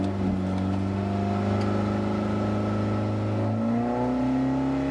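A rally car engine on a sandy Baja course, heard up close from onboard, hums steadily under load, then its pitch climbs smoothly as it revs higher toward the end.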